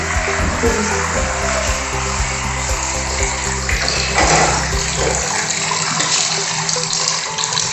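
Curry leaves being washed under a running tap, with a steady loud rush of water pouring and splashing into a basin throughout, and a lower gurgling flow that drops away partway through.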